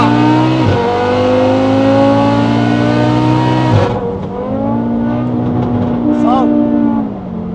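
A 1300 hp Audi TT RS pulls hard at full throttle, its loud engine howl climbing in pitch through one gear, dropping at a shift, then rising again, close and dominant, with a brief voice near the end.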